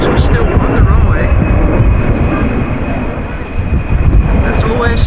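Airliner landing in gusty crosswinds at Amsterdam Schiphol, engines in reverse thrust: a loud, steady broadband roar holds throughout with a high whine on top, while people talk over it.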